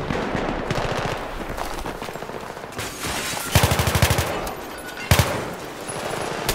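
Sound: gunfire in a multiplayer shooter video game

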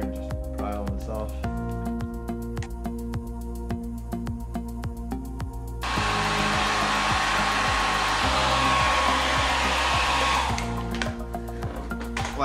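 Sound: hair dryer heating car trunk

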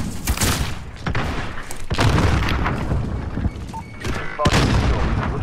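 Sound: cruise missile explosion in a video game

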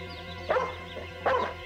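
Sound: dog barking

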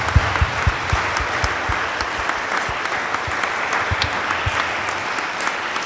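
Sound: applause for the quinceañera

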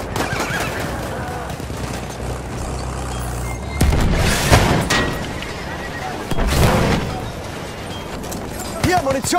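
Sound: grenade explosion in Battlefield 1 video game

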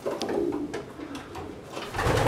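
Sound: pigeons cooing in loft

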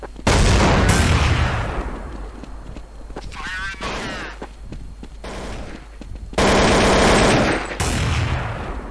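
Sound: AK rifle gunfire in Counter-Strike video game

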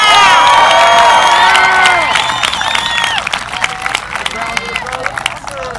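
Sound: graduation audience applauding and cheering faculty

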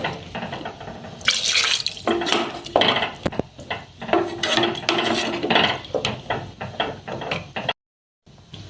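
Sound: water pouring into cooking pot

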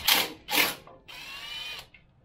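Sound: ratchet with 14 mm half-inch drive removing shock absorber bolt

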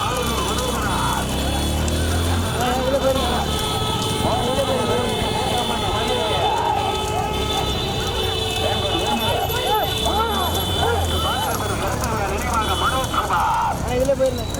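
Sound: racing bulls hooves clattering in bullock cart race

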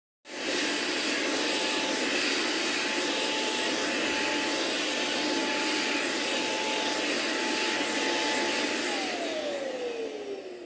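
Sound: Sixxis Bravo S2 cordless stick vacuum cleaner running then stopping

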